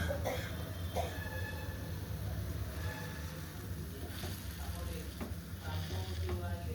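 Chicken frying in a pan on a stove turned low, a steady sizzle throughout with occasional stirring scrapes and a brief cough, no speech.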